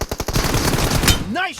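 Automatic gunfire in PUBG, a fast burst of loud, closely spaced shots at the start, followed by sustained firing and a brief tonal sound near the end.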